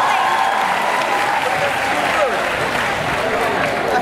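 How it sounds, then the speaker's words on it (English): Audience applause at a peace and unity service fills the room, with a steady, dense wash of clapping throughout and a voice faintly audible beneath it. "now give a big round of applause"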